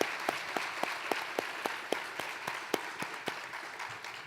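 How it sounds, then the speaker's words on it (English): Applause from an audience at a live-streamed talk, a steady wash of many hands clapping, moderately distant and even, with sharper individual claps standing out at regular intervals. "Let's give another round of applause for Dr."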